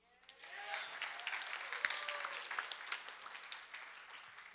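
Audience applause at a school board of trustees meeting in El Paso, a sustained burst of many hands clapping that swells quickly and holds steady in a large room, with faint voices mixed in.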